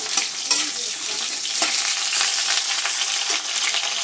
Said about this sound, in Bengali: আমি এই আলুগুলো কেটে রেখেছিলাম ডুমো ডুমো, এটাকে দিয়ে দেবো। হালকা হালকা ভেজে নেব।